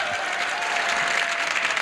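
Steady studio audience applause from a 1975 television game show, a dense wash of clapping that runs unbroken and fairly loud throughout.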